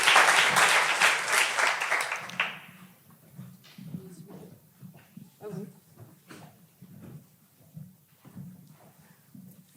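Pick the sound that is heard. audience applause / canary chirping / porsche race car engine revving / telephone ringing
audience applause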